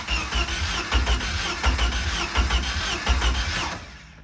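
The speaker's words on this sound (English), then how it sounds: "now it's cranking fast" A pontoon boat's inboard engine cranking over on the starter during a cylinder compression test, making a rapid, steady rhythmic churning that runs for about four seconds before cutting off, loud and close.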